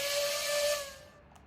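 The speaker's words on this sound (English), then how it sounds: "I love that whistle. That is amazing." An H class steam locomotive lets out one bright, loud whistle blast with a hissing edge. It holds for about a second, then fades out quickly, with no talking.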